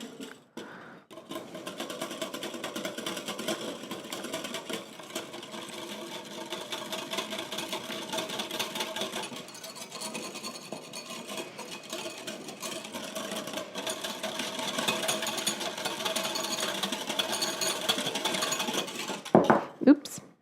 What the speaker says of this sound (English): And just whisk this up and set it aside.